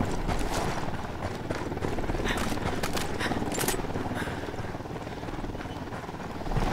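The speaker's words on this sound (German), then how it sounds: "Heli im Anflug." In the video game Ghost Recon Wildlands, an approaching helicopter gives a steady low rotor thump and engine drone that holds throughout and grows at the end, with players talking over it.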